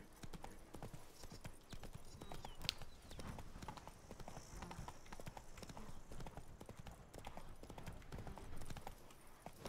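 Horse hooves gallop at a quick, steady rhythm in The Witcher 3: Blood and Wine as the horse is urged faster across the ground, loud and continuous for the full length with no talk over it.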